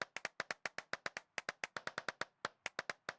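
Hand clapping inside an abandoned church, a fast steady run of about thirty sharp claps, close and alone, each clap followed by a short reverberant tail in the empty space.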